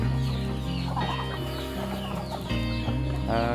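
Hens and roosters on a Thai village chicken-breeding farm cluck and squawk in a dense, continuous chorus, several birds close by calling over one another with a rising crow-like call near the end.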